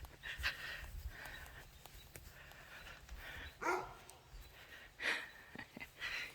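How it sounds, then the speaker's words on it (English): A dog barks and snorts a few times at a distance in a garden, faint and irregular, separated by quiet gaps. "That's my dog."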